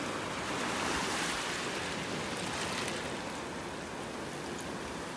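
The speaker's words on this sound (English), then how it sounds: "The tide is definitely on its way in here. It's starting to pull these shells back into the water that were washed up on the shore." Ocean surf washes steadily onto a beach in North Naples, Florida as the tide comes in, a continuous soft roar of breaking and receding waves with no voices.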